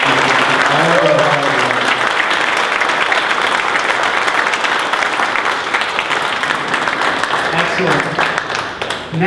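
Parents and board members at a high school board of education meeting clap loudly and steadily for students, a close, dense round of applause with voices calling out and talking underneath.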